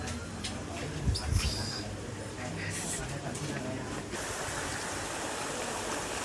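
Water flows steadily at a cafe with a continuous rushing hiss that stays at an even level throughout, while voices sound faintly underneath.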